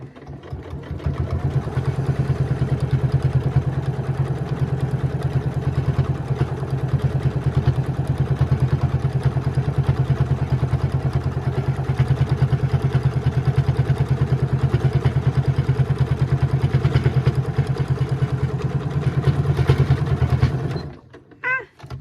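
A sewing machine runs without stopping for about twenty seconds, stitching a beach towel tote with a steady, droning motor hum and rapid needle clatter, then falls silent at the end.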